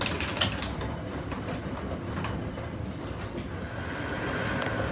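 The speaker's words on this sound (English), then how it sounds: "The washing machine is on its spin cycle, so that's been really loud." A washing machine on its spin cycle churns with a continuous loud mechanical rumble and rattling clatter, steady throughout with occasional sharp knocks.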